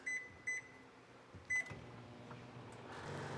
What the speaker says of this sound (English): Microwave came on.